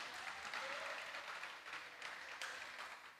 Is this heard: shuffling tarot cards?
no